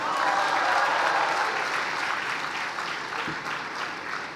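An audience in a hospital auditorium applauds, a dense, even wash of clapping at close range that holds steady and eases slightly toward the end.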